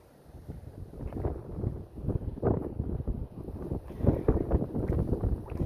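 Strong wind, around forty miles per hour, buffets a bass-fishing boat out on the water, a low, gusty rumble that swells and surges unevenly against the microphone with no talking.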